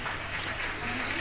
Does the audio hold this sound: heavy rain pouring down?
no